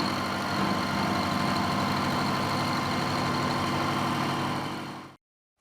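A steady machining drone from a pocket being cut in a 7mm bar in 1mm passes, a continuous even hum with a faint rhythmic texture that runs unbroken until it stops abruptly near the end.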